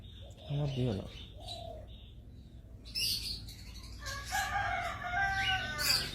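Chickens being hand-fed by a man, with short clucks and bird calls rising close by over a continuous low background, a few brief bursts of noisy activity, and a voice talking to them now and then.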